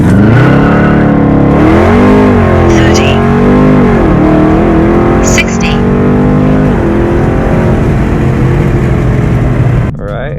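A Dodge Charger Scat Pack in track mode with traction control off accelerates hard from 0 to 60, its engine roaring loud and close as it climbs through the gears, the pitch rising and dropping at each shift, with a voice speaking over it.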